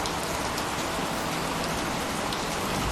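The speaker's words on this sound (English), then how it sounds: "down came the rain" Steady heavy rainfall, a dense, even hiss of drops on a surface that keeps going without a break and with no voices over it.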